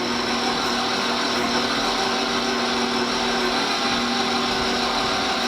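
An electric stand mixer runs steadily on a low speed, churning double chocolate chip cookie dough, a constant whirring motor drone with no pauses, fairly loud and close, with no one speaking over it.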